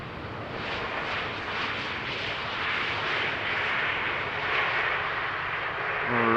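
An airplane at Amsterdam Schiphol Airport on King's Day gives a steady, loud broadband jet roar that holds throughout and swells slightly toward the end.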